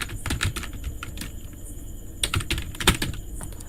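Fingers type on a computer keyboard in quick irregular bursts of clicking keystrokes, close and clear with short pauses between words.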